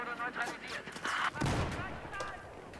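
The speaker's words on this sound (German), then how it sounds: "Irgendwie schießen die Gegner hier von allen Seiten" Enemy gunfire from every side in Battlefield 4 multiplayer, sharp shots and bursts firing irregularly, some close and loud and one heavy blast in the middle, with someone talking over them.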